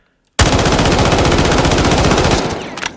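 A fully automatic gun in a shooter game fires one continuous rapid burst at a very high rate, loud and close, lasting about two seconds before stopping abruptly, with no talking.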